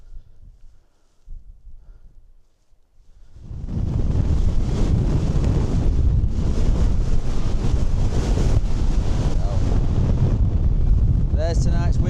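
Night wind at a solo wild camp in the Lake District mountains sets in after a few quieter seconds, then stays as a loud, steady, buffeting roar against the microphone.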